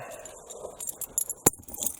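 A set of car keys jangles near a barn-find 1980 Malibu with a big-block engine, giving short metallic rattles and a bright clink in the second half of the clip.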